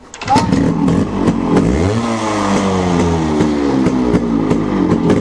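A motorcycle engine runs close by, loud and steady, revving up and then settling into a sustained drone with rhythmic mechanical ticking throughout.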